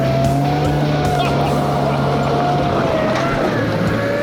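A Ferret scout car, roughly 70 years old, drives steadily past with a loud, continuous engine drone and a sustained tonal whine. The sound stays close and unbroken, and faint speech can be heard beneath it.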